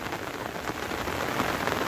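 Heavy monsoon rain pours down in a dense, steady hiss of drops striking surfaces, continuous and close for the whole moment.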